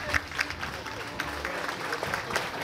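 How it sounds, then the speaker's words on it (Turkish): Moderately quiet applause from guests at a dental clinic branch opening and album launch event, a mix of scattered and overlapping claps with a few sharper individual hits standing out. "Sizlere de büyük bir alkış."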